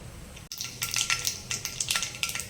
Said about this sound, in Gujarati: હવે રાઈને થોડી તતડવા દેવાની છે.